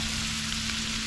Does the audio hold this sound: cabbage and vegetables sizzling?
yes